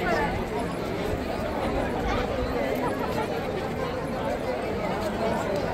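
A large crowd gathered for a training event in Delhi, with steady dense chatter and babble filling the whole stretch, loud and continuous with no single voice standing out.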